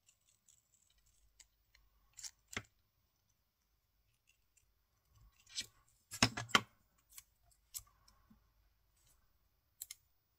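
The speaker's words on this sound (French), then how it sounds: "ce que je vais faire, c'est que je vais découper le tour" Scissors cutting around paper for scrapbooking, sparse sharp snips and clicks in a quiet room, with a cluster of quick cuts midway and isolated snips elsewhere.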